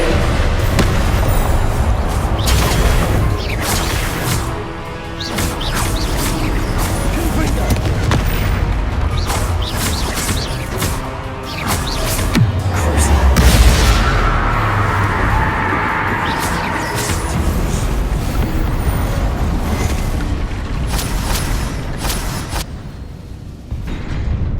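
Repeated Confringo fire spell blasts in Hogwarts Legacy, booming explosions and crackling bursts spread across the scene amid loud game action, with a voice calling out spells between them.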